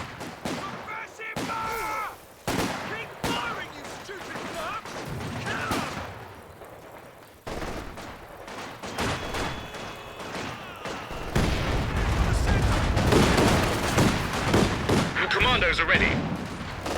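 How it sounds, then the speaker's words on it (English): Machine gun and sniper fire in a competitive strategy video game match, repeated sharp shots and rattling bursts under a commentator's talk, growing denser and louder toward the end. "And there's the sniper, Habibi as well, fighting I guess with his own MG here eventually."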